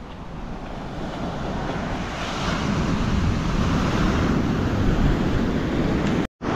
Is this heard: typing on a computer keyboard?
no